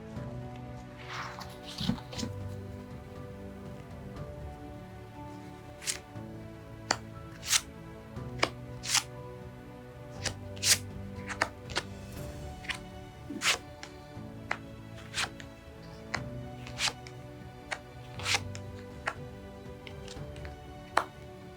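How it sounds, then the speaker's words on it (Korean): Tarot cards being shuffled and handled at close range, a long run of crisp riffling snaps and slaps at irregular intervals, with faint background tones and no talking. "진지하게 타로 카드를 뽑도록 할게요."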